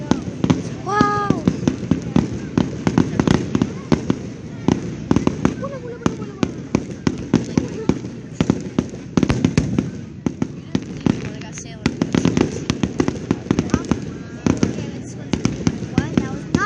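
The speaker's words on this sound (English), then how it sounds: "They're setting off like so many fireworks." Fireworks going off in a sequence of sharp cracks and pops, some with whistling rising tails, spread irregularly over the span, with people talking and exclaiming in between.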